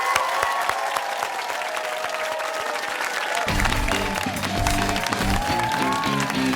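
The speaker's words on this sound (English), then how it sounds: "Nice round of applause." Audience applause for contestants at a high school quiz show, a sustained crowd of clapping that continues as musical tones rise beneath it midway.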